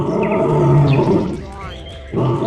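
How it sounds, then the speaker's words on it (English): A lion gives one loud, deep, rumbling roar that swells and fades, with a short growling resurgence at the end, close and filling the whole moment. "Lion."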